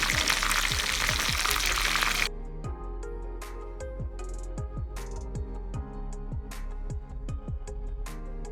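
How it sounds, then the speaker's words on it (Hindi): Chicken pieces fry in hot oil in a home kitchen, a dense loud sizzle for the first two seconds that then drops to a softer crackle with scattered pops and light clinks. "ये पीस अब हमारे फ्राई हो चुके हैं"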